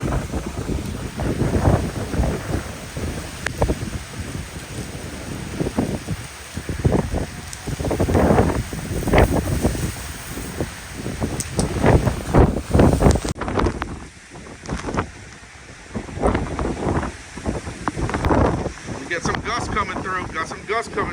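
Strong hurricane wind gusts from Hurricane Francine buffet the microphone, loud rumbling surges rising and falling over about twenty seconds with roaring peaks, with brief voice-like sounds mixed into the gusting.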